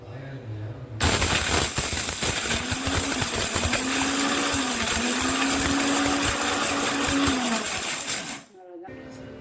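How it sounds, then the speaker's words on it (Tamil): A mixer grinder starts abruptly and roars loudly for about seven seconds, grinding curry leaves, lentils, dried chilies and asafoetida into a powder, its motor whine steady under the rattling of the jar, then cuts off. "இப்போ கருவேப்பிலையும் போட்டேன் எல்லாத்தையும் ஒன்றா போட்டேன் ஒரு ஓட்டு ஓட்டிடுவோம்"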